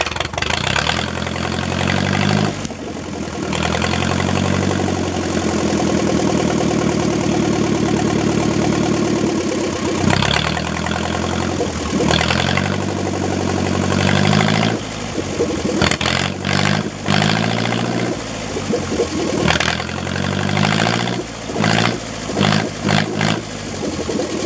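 A John Deere 1010 crawler tractor engine brought back to life for its first start, running loud and close with a rough idle that rises and falls with throttle, stumbling near the end.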